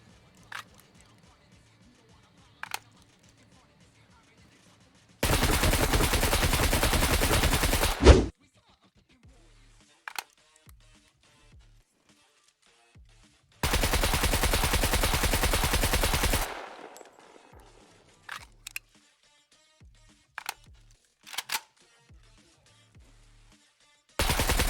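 Rifle fire in the survival game SCUM, heard as two long loud bursts of continuous automatic shooting, each a few seconds long, set against near silence with only a few faint isolated clicks and thumps between them.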